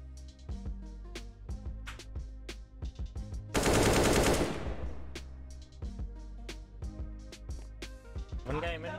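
CS:GO gunfire, rapid rifle shots cracking in quick bursts with one dense spray of automatic fire midway, loud and close, with a player's voice talking over the shooting.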